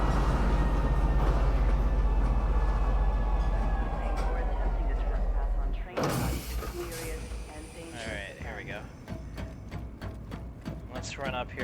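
Train arriving at Tisa Spaceport in the game Star Citizen: a loud, steady low rumble and hiss of the train runs for about six seconds, then drops off into quieter whirring and mechanical tones with a voice speaking over it.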